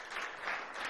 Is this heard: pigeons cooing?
no